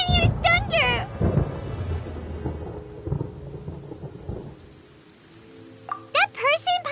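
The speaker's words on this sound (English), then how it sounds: "Paimon hears thunder!" Thunder in Genshin Impact rolls as a deep, rumbling crash that swells and slowly fades, mixed with rain, while character voices and chirpy game sounds come in before and after.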